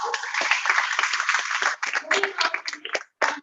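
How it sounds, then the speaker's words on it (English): Audience applause at a national oratory contest: a burst of dense clapping from a crowd that thins into scattered claps and briefly drops out near the end. "So give him a huge round of applause."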